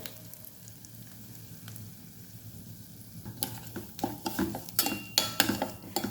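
Ingredients frying in oil in a pan for a pesarattu-style dish, with a steady low sizzle that turns into louder, brisk scraping and stirring clatter toward the end.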